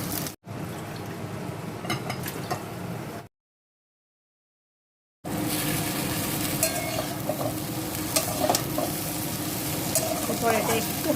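Pankaj okra being stir-fried in a pan for a vegetable dish, with steady sizzling and scraping stirring up close, broken by a couple of seconds of silence before the frying resumes.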